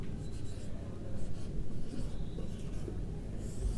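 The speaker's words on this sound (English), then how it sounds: "Write it down." Numbers are written with a pen on paper, a close, soft scratching with short continuous strokes and no talk over it.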